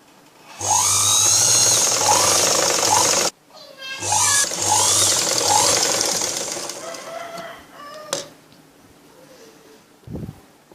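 A sewing machine stitches a blouse in two runs of steady, close mechanical whirring separated by a short pause, with a voice talking over it and a rooster-like call in the background.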